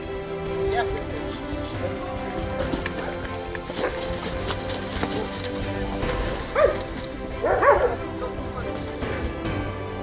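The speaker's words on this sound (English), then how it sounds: "paid a visit to the Kopak shelter in Amarohol Valley to feed some 500 stray dogs" Stray dogs at a large animal shelter in Ankara's Amarohol Valley barking repeatedly in the background, with a couple of louder yelps standing out late, under a continuous voice talking over them.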